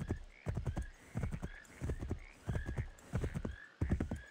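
Hooves of a horse galloping in an eighteenth-century colonial-era video game pound in a quick, steady rhythm of clustered beats, close and prominent, with no talk.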